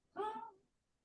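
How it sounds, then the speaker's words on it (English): A single cat's meow, short and rising then falling, faint and alone with silence after. "Your cat just meowed in unison."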